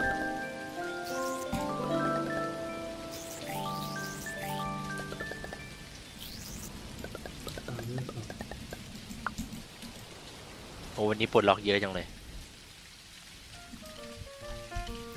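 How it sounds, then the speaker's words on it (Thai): Steady rain patters down in the farming game Dinkum, a soft continuous hiss under bright in-game music, while someone talks over it. "เฮ้ยฝนตกมาวันนี"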